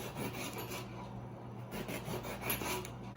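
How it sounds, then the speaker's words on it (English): Knife slicing through an eggplant on a board, a continuous close rasping scrape with a few rubbing strokes, no talk. "You cut the top off and the bottom, and then we make slices."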